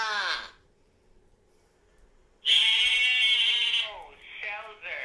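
Farm goats bleat loudly in long wavering cries, one brief call at the start and then a sustained bleat after a quiet pause, with a voice heard nearby.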